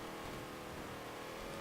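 A 2014 Chevrolet Super Sport with its original engine revs in Forza Motorsport 7, a steady, dense engine roar that stays constant and fairly quiet for a brief moment, with no talking.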